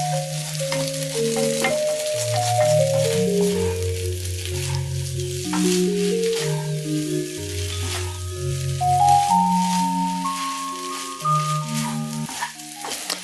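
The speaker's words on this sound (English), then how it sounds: "Those are still a little bit wet, so you can stir them up for a minute or two." Food being stir-fried in a Chinese wok on an induction cooktop at home, with a steady loud sizzle and frying crackle and occasional stirring scrapes throughout, while background music plays softly.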